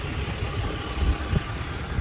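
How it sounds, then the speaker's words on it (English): Diesel engine idling inside a vehicle with the air conditioning running, climbing a mountain road; a steady low rumble fills the background alone, with no talk. "Excuse the diesel engine noise"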